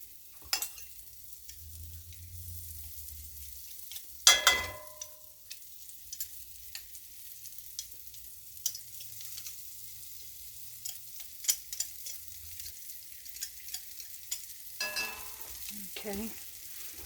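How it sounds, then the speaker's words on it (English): Food sautéing in a pan on a home kitchen stove until fragrant, a low, quiet sizzle carrying on throughout, with a sharper clatter near the start and a few light scrapes and taps toward the end. "We're just going to do this and basically until it is fragrant."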